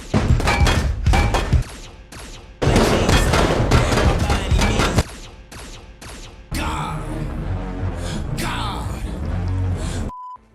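Rapid shots from the Storm King mythic pistol in Fortnite firing homing rounds, dense bursts of punchy cracks and thuds with pauses between volleys and a headshot chime, while a voice talks over the action.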